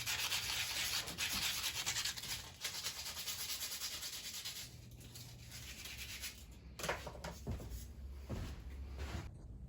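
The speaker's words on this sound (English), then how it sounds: "So let's sand that down." Sandpaper rubs in quick back-and-forth strokes over a hand-carved firewood fishing lure, grinding down rock-hard baking soda and super glue filler; close and scratchy, with brief pauses between bursts.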